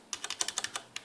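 Fast typing on a QuickFire Rapid tenkeyless mechanical keyboard with undamped Cherry MX Red switches, about ten sharp, close keystrokes clacking against the plate in quick irregular succession, with no voices.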